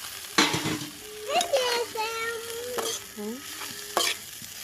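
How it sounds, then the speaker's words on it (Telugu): Egg noodles stir-fried in a pan at home, with soft scraping and stirring strokes over a low sizzle, several sharper clanks of a utensil against the pan, and no talking. "మొత్తం బాగా ఫ్రై అయిపోయినాయి కదా ఇంకా మన నూడిల్స్ కూడా బాగా ఉడికిపోయినాయి"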